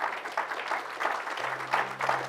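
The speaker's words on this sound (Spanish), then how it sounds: "dale ese aplauso fuerte al Señor" Applause from a congregation during a church service, a steady broadband clapping texture lasting a couple of seconds at moderate volume with no talk over it.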